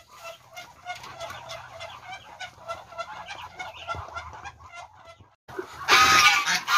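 Geese and muscovy ducks clamor as feed is given, a steady stream of clucking and honking calls that swells into a loud, dense burst of squawks near the end.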